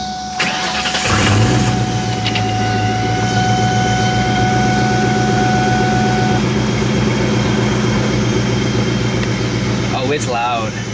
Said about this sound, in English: first startup of the Vortech Supercharged new Edge Mustang GT.